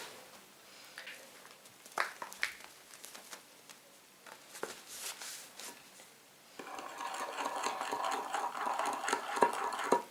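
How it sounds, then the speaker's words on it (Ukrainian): Soft scraping and rubbing strokes, then a denser, continuous rasping as white flour is stirred into cookie dough in a bowl, close and fairly quiet. "Чуть-чуть додаю муку і перемішую."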